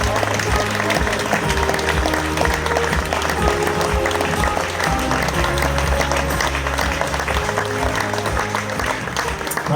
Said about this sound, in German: Meine Damen und Herren, begrüßen wir mit einem kräftigen Applaus.